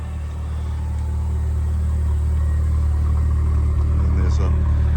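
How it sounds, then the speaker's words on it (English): A 1985 Chrysler Laser Turbo engine idles with a steady low rumble through its single factory exhaust, close and continuous with a deep, even tone. "Nice little turbo rumble there from the single factory exhaust"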